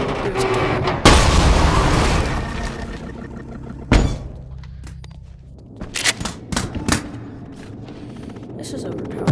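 Windstaff weapon fired in the VR game Bonelab gives a heavy boom followed by a long roaring rush, then another thump and a scatter of smaller impacts and cracks.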